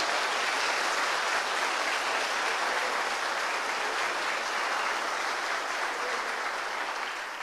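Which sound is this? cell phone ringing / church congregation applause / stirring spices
church congregation applause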